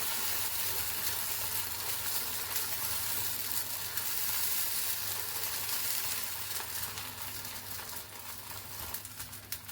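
Batter paste spread thin on a hot pan fries with a continuous bright, hissing sizzle, fairly quiet and close, easing slightly toward the end.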